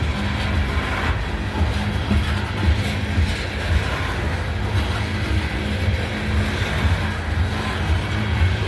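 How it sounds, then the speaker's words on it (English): A fully loaded BNSF coal train rolls past at close range in Abbeville, South Carolina, a continuous heavy rumble and rattle of railcars that holds steady and loud throughout with no break. "Fully loaded coal train."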